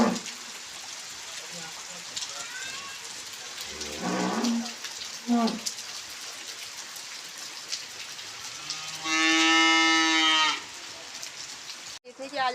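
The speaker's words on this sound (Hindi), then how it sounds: "गाय को बाहर पे ही रखा हुआ है" A cow kept outdoors lets out one long, loud moo near the end over a soft patter of rain, with a few shorter animal calls or voices earlier.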